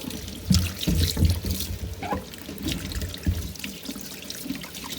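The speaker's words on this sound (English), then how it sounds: "So always good idea to wash your potatoes first, get off any extra dirt that might be on it." Potatoes being washed under a running kitchen tap, water splashing and trickling into a sink with handling noises and occasional knocks, close and steady with no talking.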